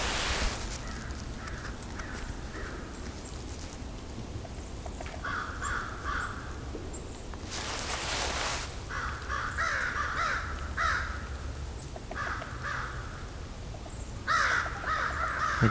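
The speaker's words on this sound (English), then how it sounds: "These are American crows." Several American crows caw repeatedly in a mixed winter flock during a Christmas bird count, bursts of harsh calls coming in clusters over steady outdoor noise, with a brief gusty rustle midway.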